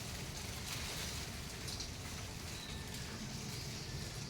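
Rain falls in a steady, even hiss of drops with no break or voices, soft and diffuse throughout.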